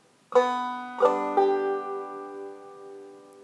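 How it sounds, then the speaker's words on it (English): A banjo's open string rings out, followed by two quick brushed strums, the notes sustaining and slowly fading in a quiet room. "if I strike the open second string and follow that with a brush thumb, it sounds like this."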